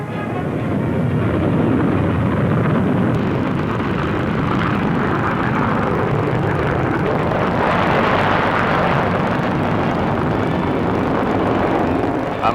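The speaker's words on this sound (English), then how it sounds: "Now for the Vickers Valiant, Britain's latest and fastest bomber." A Vickers Valiant jet bomber flies past at the Farnborough air show, a loud continuous roar that swells and holds broadband across the whole stretch.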